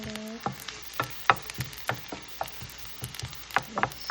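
Onion and garlic frying for fried rice, a crackling sizzle under a quick run of spoon taps and scrapes against the pan, close and moderately loud, without voices.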